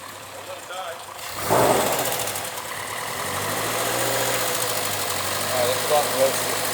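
A Subaru BRZ engine idles roughly and keeps sagging toward stalling after the throttle is released, a steady close mechanical drone with a burst near the start, while people talk over it.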